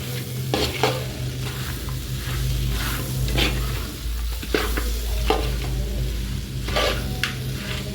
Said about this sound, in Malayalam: ഇത് നമ്മൾ ഈ വരട്ടി വെച്ചിരിക്കുന്ന മസാലയിലേക്ക് ചേർത്ത് കൊടുക്കുകയാണ് എന്നിട്ട് ഇത് രണ്ട് മിനിറ്റ് ഒന്ന് ഇളക്കി കൊടുക്കണേ